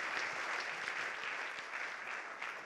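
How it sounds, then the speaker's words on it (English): An audience at a business motivational event gives a sustained round of applause, dense and even, with many hands clapping throughout. "Let's give a round of applause."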